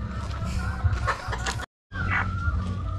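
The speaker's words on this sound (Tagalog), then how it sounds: "So yun yung manok natin" A chicken sick with coryza clucks and makes short vocal sounds close by, over a steady low background rumble, with a brief gap of silence midway.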